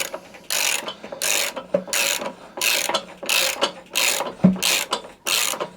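A half-inch ratchet with a 17mm socket tightens a bolt on a Honda Pro gearbox during a Kaaz Lawnflight refurbishment, making about nine rhythmic, close clicking strokes with short pauses between them.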